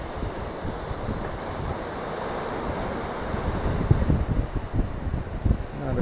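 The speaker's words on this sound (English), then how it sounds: "being near the waves, the sound," Surf rolls in and breaks beside a coastal overlook at Ericeira, Portugal, a steady wash with gusty wind buffeting the microphone and heavier surges toward the end.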